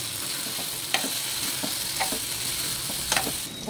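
A ridge gourd masala curry sizzles steadily in oil in a pan, with occasional louder scrapes and clicks as it is stirred, close and continuous with no talking.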